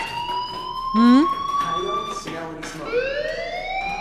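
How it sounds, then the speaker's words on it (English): A school fire alarm in the game Life is Strange sounds a continuous, loud electronic tone that wavers and sweeps in pitch, with brief talk cutting in partway through. "Do you hear that fire alarm? That means you should be outside."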